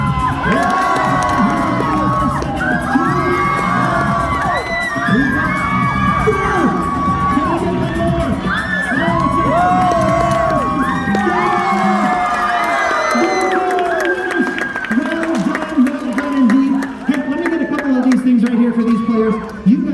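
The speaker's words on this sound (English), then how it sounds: "Audience, pick your team and cheer them on." At a SeaWorld Orlando seal show, an audience cheers on children in a fish-catching game: continuous loud crowd cheering with children shouting, whoops and yells throughout.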